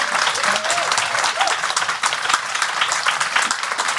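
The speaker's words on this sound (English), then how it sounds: "We're not actually going to get through it all if you clap every 5 minutes." Conference audience applauds at the FiLiA 2022 event: sustained, dense clapping from a sizeable crowd, loud and even throughout with no pause.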